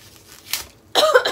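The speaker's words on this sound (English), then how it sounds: "Excuse my cough." Two short, breathy coughs in quick succession, close to the listener, with a brief pause between them and no talking.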